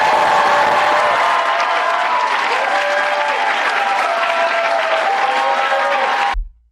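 A large audience at an award ceremony applauds and cheers continuously, a dense, loud wash of clapping that holds steady before cutting off abruptly at the end.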